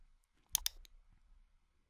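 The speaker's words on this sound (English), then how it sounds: "So let's just click on export." Two quick, crisp computer mouse clicks sound close together in an otherwise quiet room, followed by a faint third tap.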